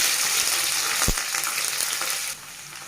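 Cumin, mustard seeds, peanuts and dried chillies frying in oil for kakarakaya fry, a loud, dense, close sizzle with a brief stirring knock partway through, easing slightly at the end, no talk.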